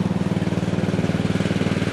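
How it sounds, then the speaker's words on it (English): Lawn mower running nearby in a yard, a loud steady pulsing engine drone with a fast regular chug throughout, alone with no talk. "sorry about the noise, my wife and my daughter's on the lawnmower"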